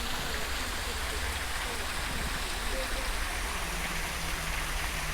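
A tall garden waterfall at Kyu Furukawa Garden, fed by a natural difference in level rather than pumps, pours as a steady, dense rushing roar with no breaks, close and loud throughout.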